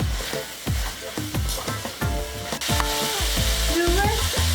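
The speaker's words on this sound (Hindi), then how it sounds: "पाँच से 7 मिनट हम इसे फ्राई करेंगे।" Hakka chicken and capsicum, with green chillies in the oil, frying in a pan: a steady close sizzle with repeated scraping stirs and clanks of a utensil against the pan, with no talking.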